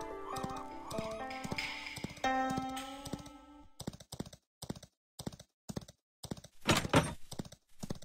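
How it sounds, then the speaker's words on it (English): Horse hooves clip-clopping in the mobile game Perfect World Mobile, heard as a steady rhythmic string of sharp clops after a stretch of melodic game music. "Ride your horse to go and meet the guard."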